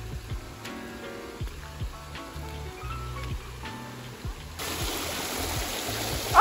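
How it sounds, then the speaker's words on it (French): Water flows and trickles steadily, a small stream burbling nearby, with a low musical pulse underneath and a brighter rushing wash toward the end. "Une petite rivière."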